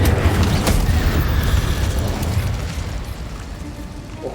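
Fiery spell blasts from Confringo and Incendio in the video game Hogwarts Legacy, a loud rumbling explosion burst at the start that trails into a sustained crackling roar, with a short sharp burst near the end.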